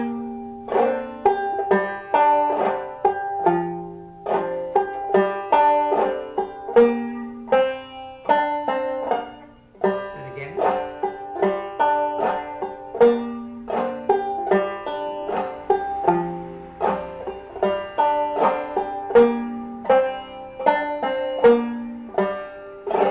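Clawhammer banjo playing Cluck Old Hen with ring-finger pull-offs on the first beats, a steady plucked rhythm of bright, close, moderately loud notes sustained throughout without any voice.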